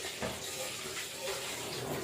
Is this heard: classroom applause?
no